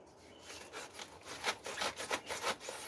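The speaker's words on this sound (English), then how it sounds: "So I use a short saw, because then when you're sawing near the ground, you've got some motion" A short saw cuts through a dendrobium orchid clump in quick back-and-forth strokes, a close, rasping rhythm of about a dozen pulls growing louder toward the end, with no speech.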